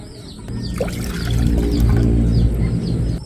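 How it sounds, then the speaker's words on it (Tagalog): Tap water pours steadily into a saucepan for fishball sauce, a close, continuous gurgling splash that grows fuller as the pan fills, with no talking. "Lagyan lang po muna natin ng tubig."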